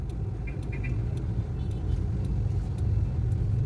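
Steady road traffic rumble heard from inside a vehicle in Philippine city traffic, a continuous low engine and tire drone with faint clicks above it, no talking.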